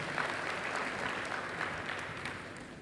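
Congregation applause during a church sermon, with soft, distant clapping from a crowded hall, steady and fairly faint throughout.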